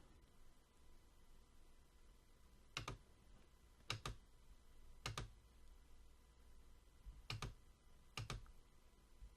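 Sparse clicks on a computer keyboard come in short pairs and single taps, five or six distinct keystroke clusters over a faint, quiet room background.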